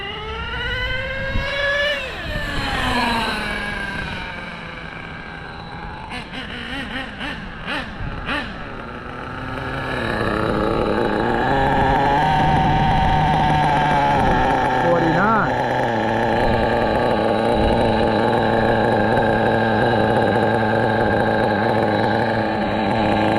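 An HPI RS4 Big Block nitro RC car engine revs, a loud high buzzing whine that climbs and falls, then holds a sustained roaring drone, with someone talking over it.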